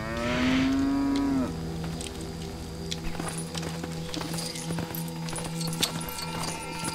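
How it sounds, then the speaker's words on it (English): Daisy the cow lets out a long, loud moo in LEGO Jurassic World, followed by clip-clop hoof steps and scattered game sound effects. "Daisy the cow."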